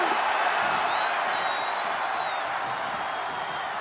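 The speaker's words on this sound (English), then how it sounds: "He wants his crowd on their feet. He wants them to make some noise." Crowd cheering in the WWE 2K25 wrestling video game, a dense continuous roar of the arena audience held at steady volume, with a thin whistle-like tone rising above it briefly.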